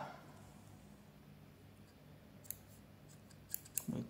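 Scissors snipping cotton crochet yarn at the end of a round, a few quick close clicks and cuts near the end after a quiet stretch.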